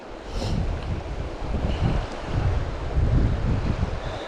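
Wind blows across a microphone outdoors beside a river during euro nymphing fly fishing, a steady low rumble that rises and falls in gusts, with faint splashes of water and no talking.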